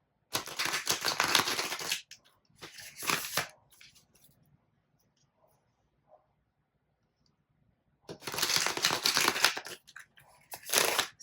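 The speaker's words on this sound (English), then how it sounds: "I'm going to shuffle the cards real quick" Tarot cards riffle and shuffle in bursts, crisp and close, with quiet pauses between the flurries.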